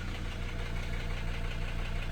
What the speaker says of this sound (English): we'll see if we can get this engine to run any better, if it will smoothen out